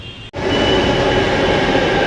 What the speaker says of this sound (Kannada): ಇದೇ ನೋಡಿ ನಾವು ಹೋಗುವಂಥ ಮೆಟ್ರೋ ಟ್ರೈನ್